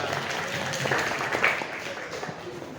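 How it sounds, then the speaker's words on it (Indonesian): Classroom applause for a student named Olivia during a school guidance lesson, a modest scattered patter from a group of students under low chatter, steady for nearly three seconds. "beri tepuk tangan dulu buat Olivia"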